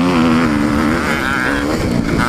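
A Kawasaki KX 250F dirt bike in fifth gear, running on ice and held on its rev limiter, gives a loud, continuous high-pitched engine buzz close by with a fluttering, bouncing pitch.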